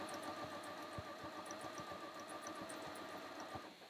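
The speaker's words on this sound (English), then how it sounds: "I'm going to sew all the way down the line till I get to the bottom" A sewing machine stitches a long line on a roll-up organiser, a quiet steady mechanical whir with rapid rhythmic needle thumps that slow and stop near the end.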